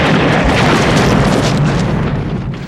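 Loud, dense roaring explosion from the Bond film GoldenEye, a sustained rumbling blast that fills the whole stretch and begins to fade at the end.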